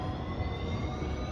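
A 16th Street city bus in Denver drives past, a steady, fairly loud broadband roar of engine and road noise with no break, heard briefly from outside.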